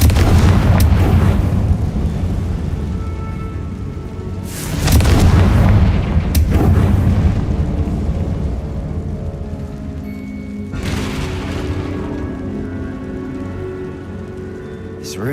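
A Confringo blasting spell from Hogwarts Legacy goes off in booming explosive bursts. Several loud blasts with crackling tails stand out over a continuous rumbling game backdrop.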